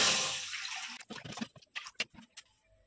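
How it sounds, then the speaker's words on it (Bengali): Water splashing and gurgling into a wok set up for boiling green mangoes, a steady pour at first, then a few separate splashy drips and trickles close by. "আমটা সেদ্ধ করার জন্য কড়ায় জল দিয়ে দিচ্ছি"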